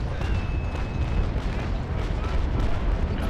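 Warship cannons boom from many guns at once in the naval battle game Naval Action, a dense and continuous rumbling barrage with voices talking over it.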